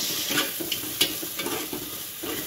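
A ginger, garlic and chili paste sizzles in hot oil while being stirred for chicken khichdi, with a steady close-up frying hiss broken by scraping stirs, with no talking.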